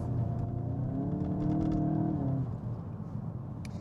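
A Volkswagen Golf GTI Clubsport Mk8.5, a front-wheel-drive hatchback, accelerates with a steady, loud engine note that rises then eases off, heard close with light road and wind noise.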